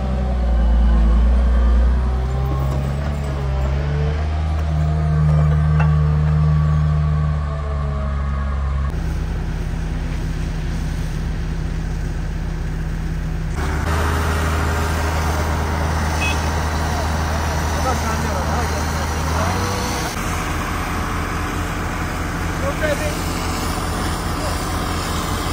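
Cars and trucks pass along a newly reopened road on the Silk Road route near Yüksekova, engines rumbling close by in successive waves, with people talking over the traffic noise.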